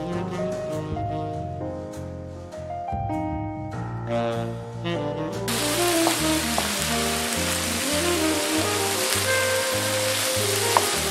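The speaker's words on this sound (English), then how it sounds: "Now we're gonna let that beef and onion mixture cook for about 5 minutes until the beef is no longer pink" A beef and onion mixture sizzles in a pan, a steady hissing crackle rising halfway through and continuing beneath looping background music.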